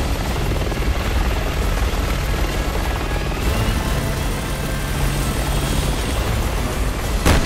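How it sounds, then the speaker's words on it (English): Helicopter in the Resident Evil 6 video game, a loud, continuous rotor roar filling the scene with a brief sharp burst near the end, no voices. "Forget the chopper for now."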